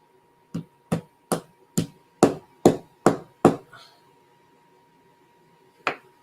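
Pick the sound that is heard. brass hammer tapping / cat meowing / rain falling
brass hammer tapping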